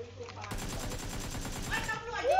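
Rapid automatic gunfire from a PUBG match bursts in and keeps going in a fast, dense string of shots, loud and close, with a raised voice shouting over it near the end.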